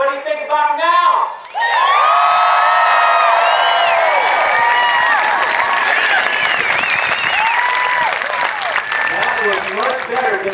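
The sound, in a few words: crowd applauding and cheering at a graduation parade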